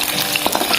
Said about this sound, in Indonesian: Kemudian goreng bawang merahnya. Kita gorengnya jangan terlalu matang teman-teman.